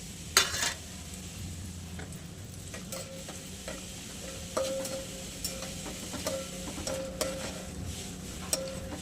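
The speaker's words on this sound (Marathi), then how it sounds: "आता आहे ना आपलं तेल तापलेलं आहे, त्यात आपण मसाला टाकूया." Whole spices crackle and sizzle in hot oil, with a few sharp pops and light scraping of a spoon in the pan.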